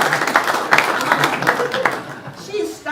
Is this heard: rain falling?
no